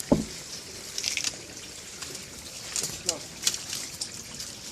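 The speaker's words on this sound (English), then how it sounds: "rainwater from the roof goes down into the pipe and into the garden" Roof rainwater trickles down a pipe and out into a garden, a light, uneven splashing with small bright drips and gurgles, while a voice talks faintly in the background.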